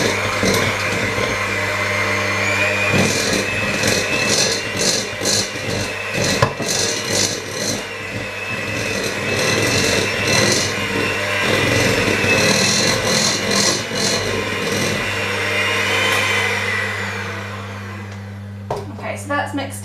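An electric mixer beats chocolate orange cupcake batter with a freshly added egg, giving a steady, loud whirring drone for most of the stretch before cutting out near the end.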